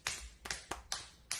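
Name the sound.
recording of someone clapping their hands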